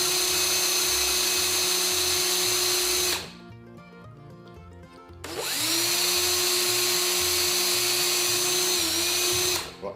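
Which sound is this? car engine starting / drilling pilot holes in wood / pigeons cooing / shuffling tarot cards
drilling pilot holes in wood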